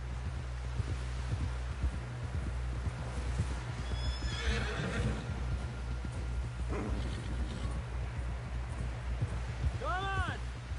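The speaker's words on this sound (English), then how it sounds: "Someone help John down off this horse." Horse hooves clip-clopping steadily through a Red Dead game scene, with a clear neigh near the end, under background voices and ambient game sound.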